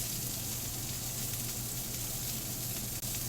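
Steak and broccoli sizzle together in a hot pan, a steady close hiss with a faint low hum beneath and one brief dip near the end as they are stirred.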